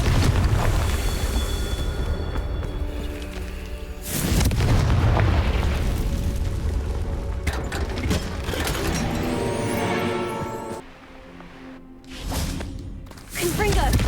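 Spell explosions in the Hogwarts Legacy video game, several heavy booming blasts with deep rumbling tails over continuous game noise, with a voice speaking at times.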